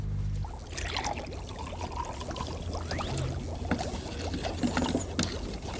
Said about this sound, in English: Pour some vinegar into the smaller container.